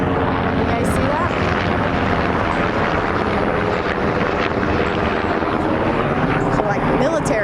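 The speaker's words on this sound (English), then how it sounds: "So like military helicopters." Military helicopter rotors thrum continuously overhead, a loud steady drone filling the whole stretch, with faint voices underneath.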